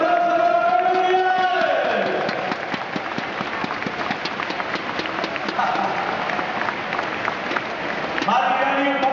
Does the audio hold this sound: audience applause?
yes